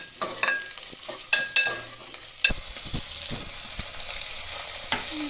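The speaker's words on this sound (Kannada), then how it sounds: "ಸ್ವಲ್ಪ ಫ್ರೈ ಆದಮೇಲೆ ಟೊಮೊಟೊ ಹಾಕ್ಕೊಳ್ಳೋಣ ಸ್ವಲ್ಪ ಫ್ರೈ ಆಗಲಿ ಈರುಳ್ಳಿ" Chopped onions fry in an oil-filled pan for tomato bath, crackling softly as a spoon stirs and scrapes them in irregular bursts, fairly close but not loud.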